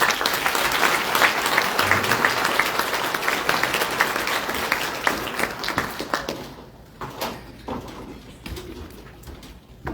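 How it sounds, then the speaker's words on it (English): Dense applause from an audience at a Diversity and Inclusion awards ceremony, loud and sustained, then thinning into scattered claps over the last few seconds. "let's give the Gary Community Partnership Corporation another round of applause"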